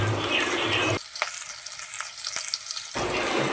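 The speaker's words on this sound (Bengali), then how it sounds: "জিরেটাকে ভেজে নেব।" Cumin, onion and garlic fry in oil for a ridge gourd, potato and red lentil dal, a hissing sizzle that drops to a quieter stretch with a few spoon taps before the sizzle returns.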